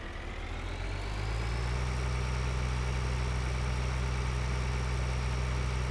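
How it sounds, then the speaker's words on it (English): A Profi hopper vehicle's engine in Farming Simulator 2013 starts up and settles into a loud, steady, droning idle with a constant low hum and no talking. "We'll drive our Profi hopper over"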